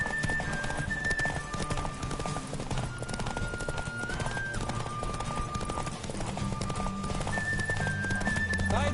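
A horse gallops with a steady, rapid clip-clop of hooves that continues throughout, and a sustained melodic tone runs over the hoofbeats.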